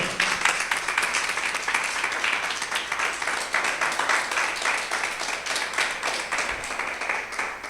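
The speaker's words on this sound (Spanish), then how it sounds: "Dale un aplauso a Cristo." A church congregation applauds during a sermon, with rapid overlapping claps forming a sustained, slightly fluctuating roar that runs the whole time, fairly distant and without speech on top.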